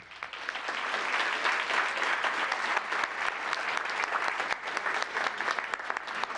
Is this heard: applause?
yes